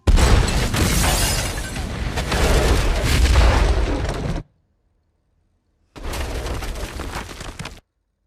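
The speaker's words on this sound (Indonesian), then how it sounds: "rudal sampai dan meledakkan rumah target berkeping-keping" A missile strike blows a target house apart in the film Eye in the Sky: a loud, booming blast with rumbling debris lasting several seconds, a sudden silence, then a second burst of rumble and crashing.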